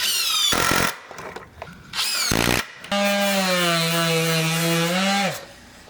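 A power drill drives screws into wood in two short whining bursts, then a longer sustained spin that winds down, close by and with no talking.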